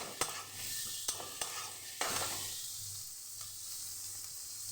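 Cabbage and capsicum are stir-fried in a pan, a constant bright sizzle broken by a few sharp spatula knocks against the pan, close and quiet, with no talking.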